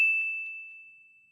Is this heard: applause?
no